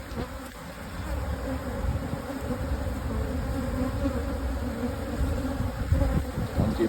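Bees at open new hives make a dense, continuous buzzing, close and steady, with occasional faint knocks of frames and no speech.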